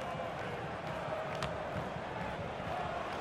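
A football stadium crowd gives a steady, moderately distant roar of reaction to a shot on goal, a continuous murmur and swell of many voices with no distinct peaks.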